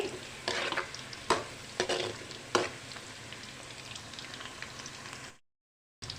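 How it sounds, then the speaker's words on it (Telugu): Bitter gourd frying in a pan and stirred now and then, a steady close sizzle broken by a few sharp scraping knocks of the spoon before the sound cuts off. "ఇది కొంచెంసేపు ఫ్రై చేద్దామండి మధ్య మధ్యలో కలదిప్పుకుంటూ ఉండాలండి"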